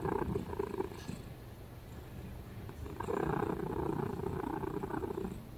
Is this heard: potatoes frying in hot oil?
no